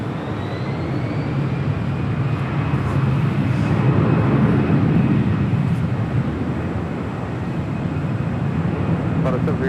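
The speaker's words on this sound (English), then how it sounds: "That is JetBlue Airways Flight 880 heading to Las Vegas in that A320." A JetBlue Airways Airbus A320 jet airliner at Los Angeles International Airport gives a steady, loud engine roar throughout, with talk from a nearby person over it.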